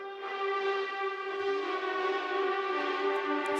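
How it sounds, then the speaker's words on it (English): A piano note held under spacey delay effects rings as a sustained, shimmering tone with stacked steady harmonics, smooth and continuous, with no voices. "Spacey delay effects."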